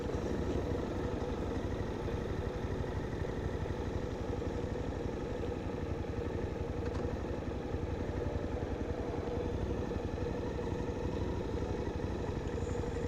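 Suzuki DL800RE V-Strom motorcycle engine running steadily at a low, even idle, a continuous mid-level rumble with no talking.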